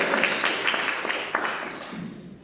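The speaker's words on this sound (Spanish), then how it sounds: "Dale una ofrenda de palmas." A church congregation claps in a quick, even rhythm during a Spanish-language sermon, the applause fading out toward the end.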